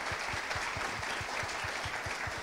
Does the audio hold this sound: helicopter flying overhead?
no